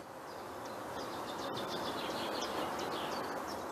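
A common chiffchaff sings outdoors in a natural area near Poitiers, a faint series of short repeated high chirps in an even rhythm, distant over a steady background hiss.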